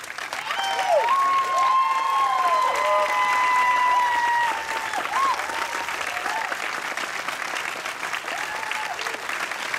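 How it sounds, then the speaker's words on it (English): Warm audience applause for a film crew at a festival Q&A screening, steady clapping for about four seconds that then thins and fades, with a clear whistle-like tone gliding over the start. "we would really like to give you guys a round of applause"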